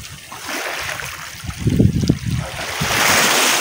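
Sea water at a beach in Monte Maria, a steady close wash of surf and splashing with swelling gusts of rushing water.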